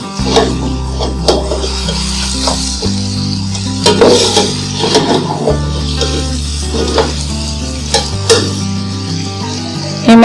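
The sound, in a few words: meat frying in a pot for pulao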